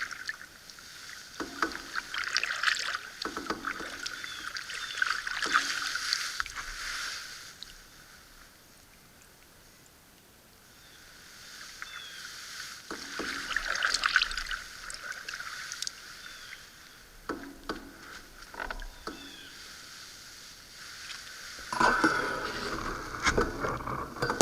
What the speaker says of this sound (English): we're going to go paddle across the lake